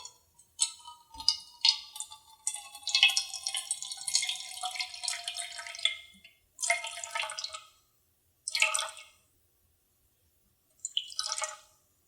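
Warm water pours into a bowl for bread dough in several short bursts of trickling and splashing, close, separated by brief pauses.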